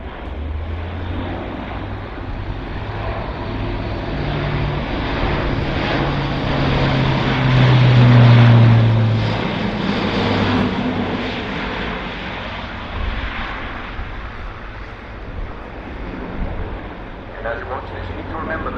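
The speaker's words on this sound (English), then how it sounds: "It's a 4 turboprop airlifter for Europrop International TP400 engines." An Airbus A400M Atlas, a four-engine turboprop transport with Europrop TP400 engines, flies a display at an airshow. Its steady engine drone swells louder midway, and a commentator talks over it throughout.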